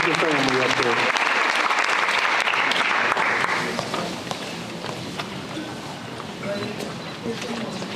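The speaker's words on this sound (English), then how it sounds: "Let's give a round of applause to Payton Moore." Applause from a gathered crowd at a high school National Signing Day ceremony, loud and dense for the first few seconds, then thinning into scattered claps and background chatter.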